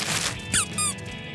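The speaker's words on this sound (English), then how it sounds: "It's a squeaky toy." A cartoon squeaky toy gives two sharp, high squeaks close up, a short gap between them, over a soft background.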